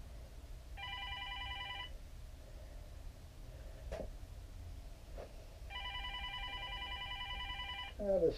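Telephone ringing indoors during a wood-turning session, two separated bursts of electronic trilling ring tone, moderately faint, with a couple of sharp knocks between them and no talk.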